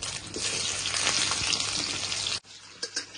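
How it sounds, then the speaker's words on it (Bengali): Onion and chui pieces fry in hot oil with a loud, steady sizzle that runs continuously, then cuts off abruptly near the end, followed by a few faint stirring sounds. "পেঁয়াজটা ভালো করে লাল লাল করে ভাজবো"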